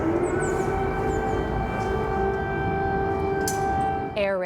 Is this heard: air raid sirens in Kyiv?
yes